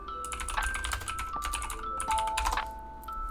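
Rapid clicking of computer keys on a keyboard in quick bursts, close and clear, with steady tones playing in the background.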